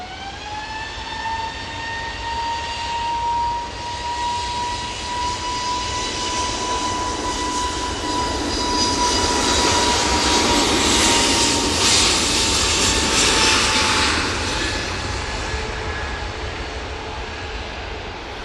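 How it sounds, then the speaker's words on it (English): An EasyJet Airbus A320neo departs Manchester Airport for Murcia, its jet engines building from a high whine to a loud, broad roar that swells at takeoff and slowly fades as it climbs away. "we do have this EasyJet A320neo off to Murcia"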